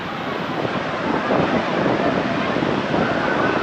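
Forceful waterfall water pouring down in a steady, loud broadband roar that fills the whole clip without a break.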